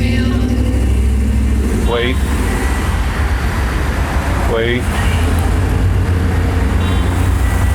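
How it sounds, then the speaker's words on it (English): Cars pass by on a road outdoors, a steady loud rumble of traffic under a person talking, with a brief sweeping whoosh of a vehicle going by. "Hang on, wait for the cars."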